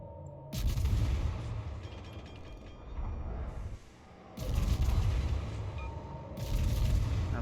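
Warship naval guns firing in a game, with heavy booming salvos and rumbling bursts that swell and fade in long blasts, loud and close, followed by rolling echoes and mechanical hum between volleys.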